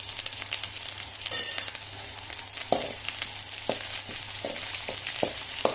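Onions and fresh curry leaves fry in hot oil for sambar, a steady close sizzle with a few soft clinks and scrapes of stirring, no voices.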